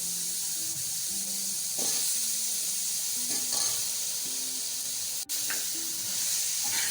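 Potatoes go into a hot pan of browned minced meat for aloo qeema, setting off a steady, bright sizzle and hiss that holds for several seconds, with faint clinks of a utensil.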